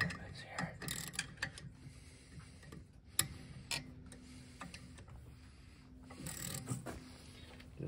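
A cheap Harbor Freight flywheel puller is cranked down with a tool, giving quiet, irregular ratcheting clicks and metallic ticks against a low background hum.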